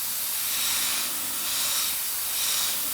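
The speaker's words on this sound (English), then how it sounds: "Okay, so let's airbrush this and see what it looks like." An airbrush sprays acrylic paint thinned with retarder, a steady close airy hiss that swells and eases gently in a few slow pulses, with no voices.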